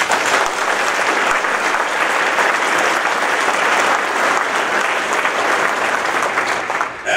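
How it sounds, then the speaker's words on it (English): An audience at a State of the City event applauds the mayor, loud and sustained clapping that holds evenly before tapering off at the very end. "Big round of applause for Mayor Chrest."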